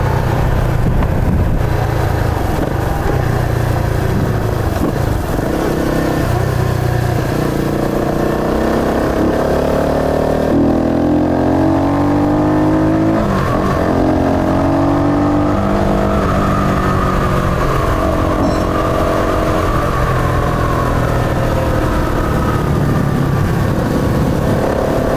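A Rusi Flash 150 fuel-injected motorcycle engine runs loud and steady at close range, the pitch climbing and falling through several rev changes midway.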